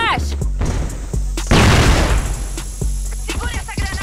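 A loud grenade blast erupts midway through a video game firefight, surrounded by sharp, close gunshots and clattering impacts.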